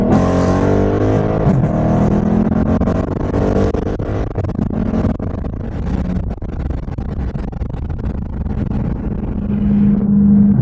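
The 6.4-liter V8 of a Dodge Charger Scat Pack with its muffler deleted roars loudly as the car drives, revving and shifting with deep exhaust rumble, no talking.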